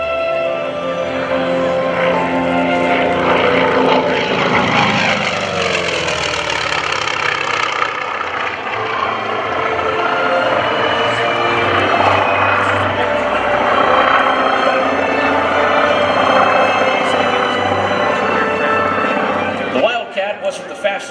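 A Grumman FM-2 Wildcat, a World War II warplane, makes a photo pass at an airshow, its steady engine drone filling the whole stretch loudly while an announcer talks over it.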